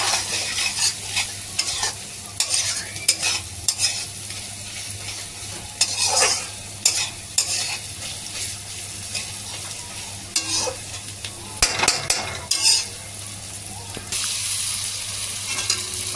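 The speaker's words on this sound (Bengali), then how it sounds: "পেঁয়াজটা একটুখানি ভাজার ব্যাপার আছে তো" Onions sizzling in a pan on low heat along with ginger-garlic paste, a steady close frying hiss broken by repeated scraping stirs and clinks of a spatula, with no voices.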